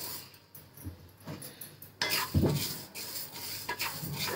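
Horse gram (kulith) is dry roasted in a pan over a gas flame, heard as scraping and stirring of the dry grains against the metal with intermittent clatter. The sound grows louder partway through, and no one speaks.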